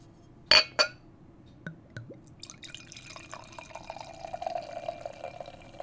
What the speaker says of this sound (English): The theatrics of however long it takes me to pour this beer.